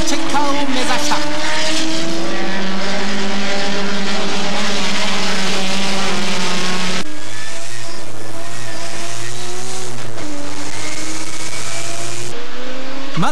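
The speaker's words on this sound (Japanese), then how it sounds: "13時28分、33台のマシンが一斉にスタート" Thirty-three race cars, Dunlop Sierra and Skyline touring cars among them, launch together at the start of the 1988 SUGO 300 km race: a loud, dense mass of engines rising in pitch, with a sharp change midway as the field passes.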